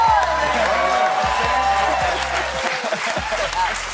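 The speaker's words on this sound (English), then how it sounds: "Let's give this guy a round of applause for his amazing performance on the Museum of Hip Hop panel." Audience applause at a Dune cast appearance rolls steadily for several seconds, with voices and a low hum mixed underneath.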